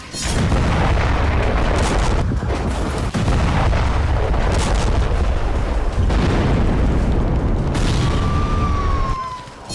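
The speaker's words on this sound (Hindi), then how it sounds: "गाजा में इन धमाकों की वजह है इजराइल के वो रोबोट जिन्हें बेखौफ होकर इमारतों तक भेजा जा रहा है।" Explosions in Gaza rumble in a loud, continuous barrage of deep booms and crackling blasts, with a brief high whistle near the end.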